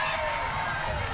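Stadium crowd at an A-League football match between Perth Glory and Western Sydney Wanderers, a dense steady roar of cheering fans throughout, loud and continuous with no single voice standing out.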